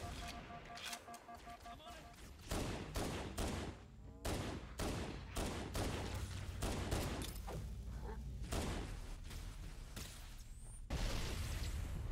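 Gunfire in Halo CE Anniversary comes as rapid bursts and sustained automatic fire with booming shots, loud and dense throughout, while players talk over it.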